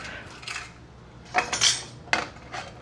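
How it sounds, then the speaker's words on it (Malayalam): A metal pressure cooker lid closed over mandi rice: a few sharp, close clanks and scrapes in two quick clusters, with quieter rattles before and after in an otherwise quiet kitchen. "ഇനിയിപ്പോൾ നമ്മളിത് കുക്കർ അടച്ച് വെക്കുക അല്ലേ"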